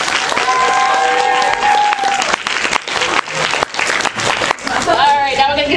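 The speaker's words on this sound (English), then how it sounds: "Everyone give a round of applause to our great." Audience applause at a convention panel, a loud, sustained clapping crowd that fills the space throughout, with voices calling out over it.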